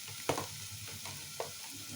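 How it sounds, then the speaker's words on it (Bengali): Onion, ginger and tomato fry in a pan for a Bengali katla fish curry, a soft continuous sizzle broken by a few spoon knocks and scraping stirs. "দেখুন নাড়াতে নাড়াতে আমাদের পেঁয়াজ আদা টমেটো সব ভালো করে ফ্রাই করা হয়ে গেছে।"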